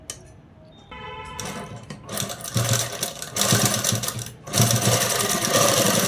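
A sewing machine stitches a blouse, first with a short soft start, then running loud and continuous in rapid mechanical bursts with a brief pause before resuming close up.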